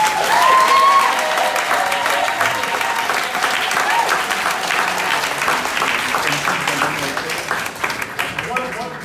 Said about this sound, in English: Can I just ask you to give an applause for all of us?